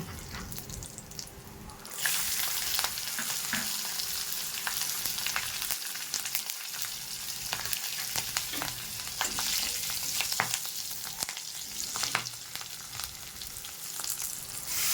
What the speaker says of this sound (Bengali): এই তেলের মধ্যে জিরে, তেজপাতা আর কাঁচা লঙ্কা দিয়ে ফোড়ন দেব।